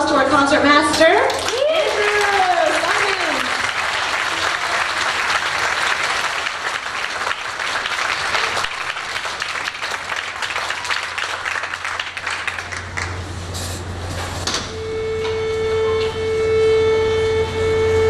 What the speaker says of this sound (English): Please give a big round of applause to our concert master.